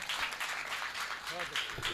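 An audience at a Hindi poetry gathering claps to welcome poet Deepak Gupta, a fairly thin, steady patter of applause that runs throughout with a voice talking over it.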